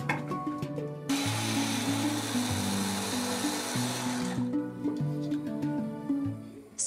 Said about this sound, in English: Chop 4 red peppers in a mixer.